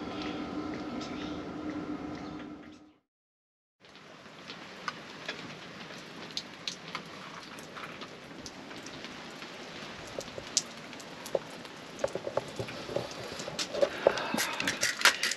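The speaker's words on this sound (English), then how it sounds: "It's just been constant drizzle." Light, constant drizzle falling at an off-grid outback station in South Australia, a soft steady hiss with scattered sharp drip ticks on nearby surfaces, briefly cutting out for a moment before resuming and growing slightly busier.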